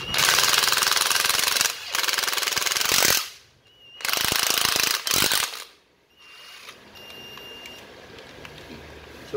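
A secondhand Japanese cordless drill runs in hammer mode in two loud bursts of dense rapid clattering, each about a second and a half long, separated by short pauses, then drops to quiet background noise.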